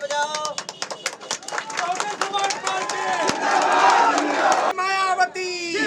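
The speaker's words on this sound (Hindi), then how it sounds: "ताली बजाओ।" Crowd at the opening of a Bahujan Samaj Party election office near the old Sitapur court crossing, clapping in loud sharp bursts while voices shout and chant slogans over it, close and energetic throughout.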